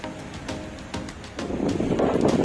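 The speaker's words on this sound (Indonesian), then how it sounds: "anginnya kencang sekali" Strong wind buffets the microphone at the mouth of the Progo River, where people are fishing: a steady roar with gusts that grow louder toward the end, with no speech.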